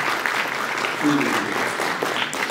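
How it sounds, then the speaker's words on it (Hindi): Audience applause at a college techfest, a brief burst of clapping with talk over it and a faint tonal sound partway through. "तालियां बजाइए इनके लिए"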